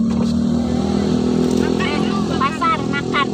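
A motorcycle engine drones steadily on a road trip through Kampar, Riau, close and continuous, while people talk over it.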